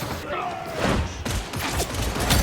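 Dense gunfire rattles through a Warhammer 40,000: Darktide fight, a loud continuous burst of shots and thuds close by with a voice talking under the din.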